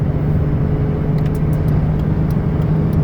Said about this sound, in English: this van handles nicely on the highway